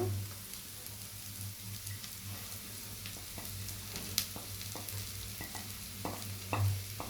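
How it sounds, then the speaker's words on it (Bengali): Mixed vegetables stir-fry in a pan for chicken fried rice, a soft continuous sizzle with scattered light clicks and scrapes of a spatula, one sharper knock midway, and no talking. "আমি কিছুক্ষণ রান্না করে নেব সবজিটা"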